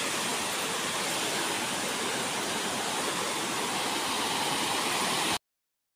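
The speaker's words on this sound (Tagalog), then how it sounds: "So ito yung ilog guys, yan." A river flows in Rizal, Palawan, a loud, steady rushing wash of water that fills the whole scene without pause until it cuts off abruptly.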